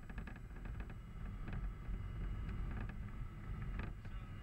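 A Diamond DA40 light aircraft rolls out on the runway after landing while the pilot begins braking. A steady low rumble and wind noise carry scattered faint clicks and knocks, with no voices.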